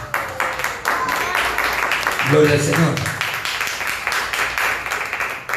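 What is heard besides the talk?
congregation clapping for Jesus Christ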